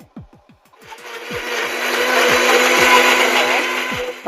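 A kitchen mixer grinder whirs loudly as it blends coriander, mint, ginger and garlic into a paste with no water, starting after a few clicks and settling into a steady high-pitched grinding hum.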